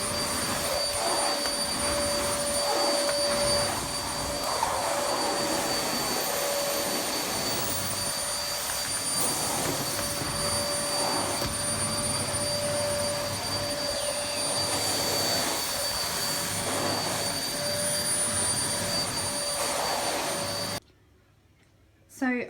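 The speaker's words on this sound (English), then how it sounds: "see what the Hoover actually picks up, and you can have a listen to see how loud it is" A Vax Dynamo C85-Z2 cylinder vacuum cleaner roars steadily with a high whine as it is pushed over short pile carpet, its pitch shifting slightly with each stroke before cutting off near the end.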